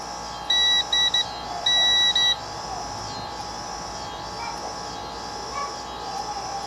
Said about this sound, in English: So, I think we should be hearing it beep.